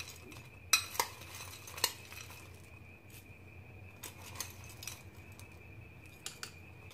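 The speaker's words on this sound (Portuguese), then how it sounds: "Só misturar com a colher." A spoon stirs nut praline into a filling in a bowl, giving close scraping clinks with a few sharp taps against the side, alone in a quiet room.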